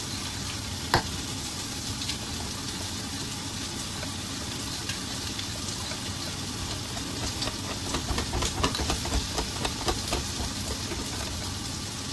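Adobo cooks in a pan with a steady sizzle, soft pops and occasional stirring scrapes, close and continuous, with a stronger crackle toward the end.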